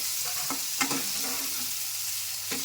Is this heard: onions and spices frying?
yes